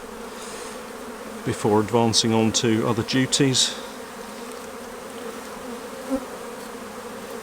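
Honeybees crawling over a brood frame during a hive inspection, with young bees emerging: a loud close buzzing drone, joined by someone speaking briefly in the middle, then a softer steady hum afterward.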